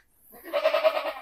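Goats on a goat farm give a loud, close bleat that rises quickly and wavers for under a second.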